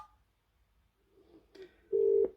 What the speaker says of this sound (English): Pressing the conference button will put the call on hold whilst you then dial the second number.